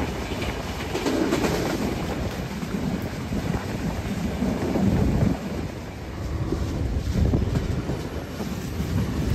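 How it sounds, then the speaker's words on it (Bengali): Nilsagar Express train rolls slowly toward the Jamuna bridge, a continuous heavy rumble and rattle of wagons heard from inside, with faint clickety-clack and no talk. "ট্রেন খুবই স্লো চলছে, কারণ এটা আগের ব্রিজ দিয়ে পার হচ্ছে"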